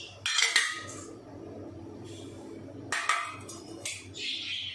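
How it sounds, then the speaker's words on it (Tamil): A utensil clinks and scrapes in a bowl as eggs are mixed with curry leaves, salt and pepper, coming in short bursts of bright tapping over a low steady background hum, with no talk. "முட்டை சேர்த்துட்டு நல்லா கலந்து விட்டுடலாம்."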